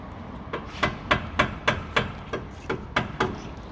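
Nine or ten sharp hammer blows ring out on a metal tie rod end at a steady, slightly uneven pace, close and loud, with no talking.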